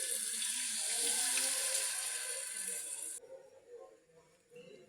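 Macaroni cooking water pours into a frying pan with a bright, hissing splash that lasts about three seconds, then cuts off, leaving quieter sizzling and faint kitchen clatter.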